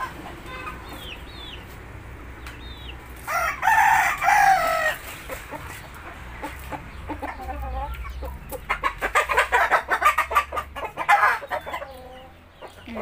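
Chickens clucking and a rooster crowing in a backyard coop, with scattered clucks building into a loud burst of calls, then a busy stretch of overlapping crowing and clucking.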